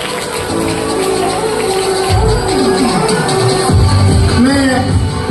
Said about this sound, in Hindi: जोरदार तालियां भैया बहनों के लिए।